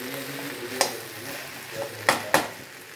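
Okra (bhindi) fries in a pan, a steady soft sizzle under a low hum, with three sharp spatula scrapes or knocks as it is stirred.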